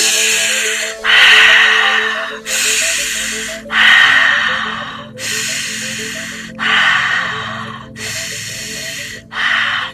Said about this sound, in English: Maybe you want to double time your breath for 10 seconds.